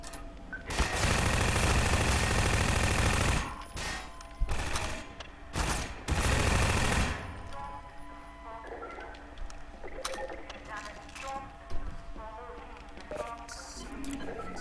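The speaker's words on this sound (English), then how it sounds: "let's go unload a clip into some fellows" Loud sustained automatic gunfire from weapons in the Half-Life 2 video game, a dense burst lasting several seconds, then scattered shots and game effects.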